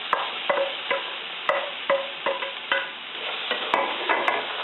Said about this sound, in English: I'm going to let these saute for a couple of minutes just so they get nice and brown